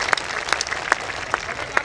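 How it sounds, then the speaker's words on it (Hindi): Applause from an audience at a Hindi comedy poetry gathering, with sharp individual claps standing out in an uneven rhythm over a steady clapping wash. "आप ऐसे तालियां बजा के आग्रह करें तो उनको पता चलेगा"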